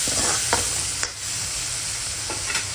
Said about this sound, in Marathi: व्यवस्थित परतून घेऊ आपण